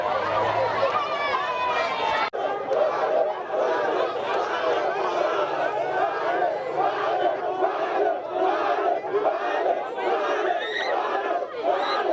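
Frenzied crowd of dancehall music fans massed outside police headquarters, shouting and cheering continuously in a loud, dense roar of many overlapping voices, close and sustained throughout.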